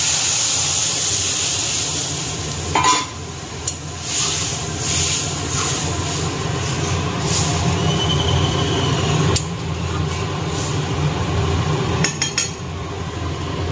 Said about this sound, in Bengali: এবার ডালটাকে ফোড়ন দিয়ে দেবো